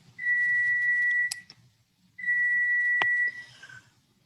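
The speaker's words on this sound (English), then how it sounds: "that beeping is my stove" Two long electronic beeps from a kitchen stove running its self-clean cycle, each about a second, separated by a short gap, with faint background noise.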